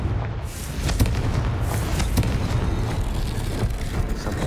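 A Confringo fire-blast spell in the Hogwarts Legacy video game, heard as a sustained, dense booming roar with repeated crackling impacts, loud and continuous throughout with no talking.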